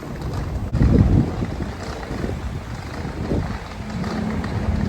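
Strong gusty wind buffets the microphone at the Hydra island ferry port in Greece, a loud, continuous rumbling roar with a heavier gust near the start and no talking.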